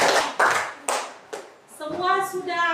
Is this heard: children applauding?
yes